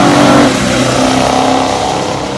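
A 1970 Oldsmobile 442 W30 muscle car with the Stage 2 Experimental Package revs loud and close, its deep engine roar holding strong before easing off slightly.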